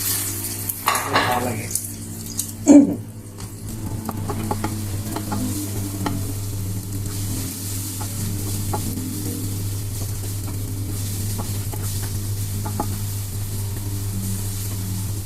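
Onions sizzle and fry in a pan at home, with a sharp metal clatter of stirring early on, then a steady low sizzle continuing underneath; a few brief words are spoken.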